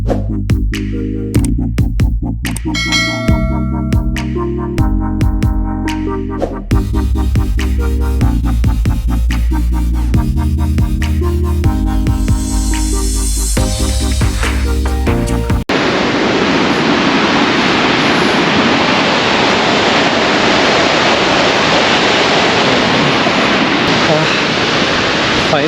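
Rushing water at Mallali Falls in Karnataka fills the second half with a loud, steady broadband roar, coming after a stretch of speech and music.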